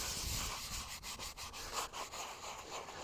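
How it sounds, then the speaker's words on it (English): A granite flat headstone gets a steady scrub down, with a brush rasping back and forth over the stone in a continuous, close, dry rubbing sound with brief dips between strokes. "this is a nice little scrub down"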